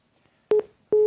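Two short electronic telephone tones sound during a call-in broadcast as the line connects to the next caller, clear, close and separated by a brief pause.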